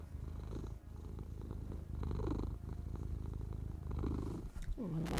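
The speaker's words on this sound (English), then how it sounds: "I don't know if you can hear my little kitty." A small house cat purrs close by during a quiet drawing session, a steady low rumble running through the whole stretch with faint room noise and a brief rustle near the end.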